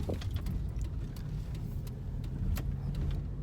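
A car driving on its way to pick up a taxi passenger gives a steady low engine and road rumble heard from inside the cabin, with faint clicks and rattles over it and no talking.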